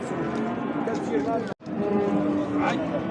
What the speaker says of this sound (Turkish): Eri bir inek.